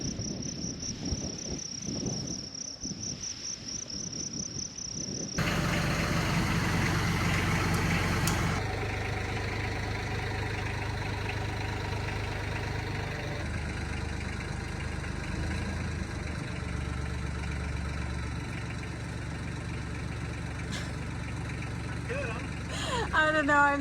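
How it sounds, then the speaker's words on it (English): A tractor engine idles with a low, steady rumble that runs throughout, while crickets chirp in the background at the start. "we'll pick it up with the tractor and see how it does"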